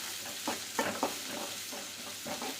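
Big onions sauté in a pan for a spicy okra curry, with a soft continuous sizzle broken by a few spoon scrapes and stirring knocks, close but fairly quiet.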